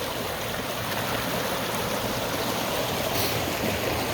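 Irrigation water rushes through an open, unpressurized ditch at a diversion point out west, a loud, steady, close-up gushing roar that continues without a break and with no voices.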